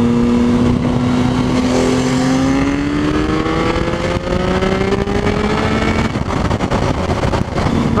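Sports motorcycle engine, a Ducati 959 Panigale or Triumph Street Triple, revving loudly and close by on a street, its tone sweeping steadily upward as it accelerates, with a continuous rough roar throughout.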